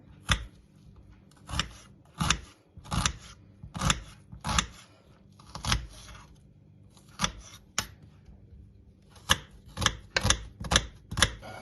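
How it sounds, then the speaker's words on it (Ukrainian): Knife slicing an onion into pieces on a cutting board for a lavash appetizer filling, crisp distinct chops in irregular bursts, close and clear with no talking. "взяти цибулю, нарізаємо такими шматочками"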